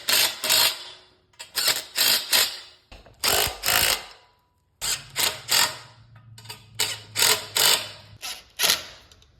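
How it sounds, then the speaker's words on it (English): Repeated metallic ratcheting bursts of a nut being forced and cross-threaded onto a bolt during a rat-rod drift trike build from a Radio Flyer wagon, loud and close in short rhythmic runs with brief pauses, no talking. "We're just making our own lock nut here by cross-threading the wrong thing on it."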